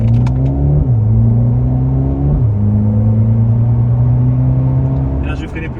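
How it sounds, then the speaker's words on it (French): A Mercedes-AMG A-Class engine pulls hard through its gears, a loud steady drone rising in pitch then dropping at each quick upshift, twice in a row, heard from inside the car with no talk over it. "on va avoir une petite ligne droite qui va me permettre de pouvoir tester l'accélération"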